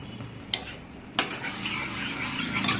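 Cooked dill leaf vegetable is mixed in a pan with a spatula, giving two sharp scrapes against the metal and then a soft, steady rustle of stirring, close by and without talk.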